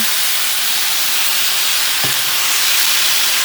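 Beef bulgogi searing in a hot pan gives a steady, loud sizzling hiss throughout, with a brief clatter partway through.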